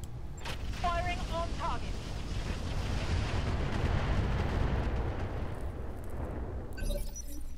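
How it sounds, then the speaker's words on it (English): Incendiary artillery rounds firing in the mech video game Roguetech, a dense sustained roar of rumbling blasts and crackling fire, loud and continuous with a sharp burst near the end. "We're going to lob some incendiaries in there, though."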